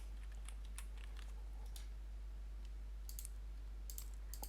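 Keys on a computer keyboard are typed in short, scattered clusters of faint clicks over a steady low hum, with no voices.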